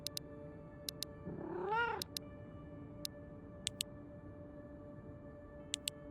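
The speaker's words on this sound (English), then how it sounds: "Let's come back and feed the cat in a moment." A single rising, harmonic cat meow from the survival game Road to Vostok, moderately close, set against a steady ambient hum with sparse sharp ticks and clicks before and after.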